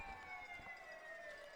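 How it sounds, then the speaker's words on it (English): Ambulance siren arriving at a high school football game, a wailing tone sliding slowly downward, fairly distant and faint against background crowd ambience. "but the ambulance just arriving now"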